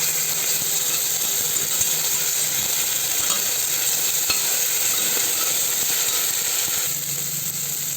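Ginger garlic paste sizzles in hot oil for a goat kurma, a loud, steady hissing crackle that fills the whole stretch without pause.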